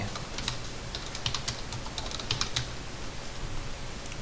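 Rapid clicks of a computer keyboard being typed on while entering an AutoCAD fillet shortcut, a close, light tapping in quick irregular bursts over soft room noise, with no voice.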